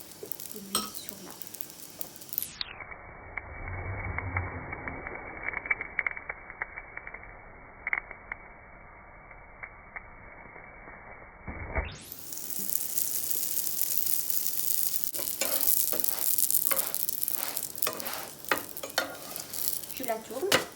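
Bread for a cheese bread sizzles in a little oil in a pan, a continuous close crackle with scraping and clinking of a utensil as it is turned, and no one speaking.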